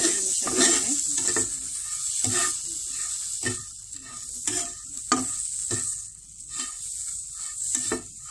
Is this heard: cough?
no